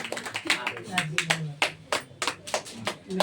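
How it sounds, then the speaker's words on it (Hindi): An audience at a Jain devotional bhajan gathering claps in a quick, sharp burst of applause, distinct hand claps rising and falling close by over a few seconds. "एक बार जोरदार ताली"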